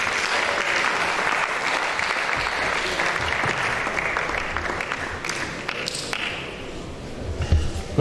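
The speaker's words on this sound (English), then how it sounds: "A round of applause for him" Applause from an alumni reunion audience greeting a guest lecturer, a dense, steady wash of many hands clapping that holds for the whole stretch and thins slightly near the end.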